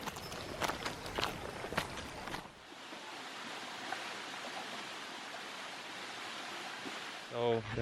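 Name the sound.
footsteps walking to waterfalls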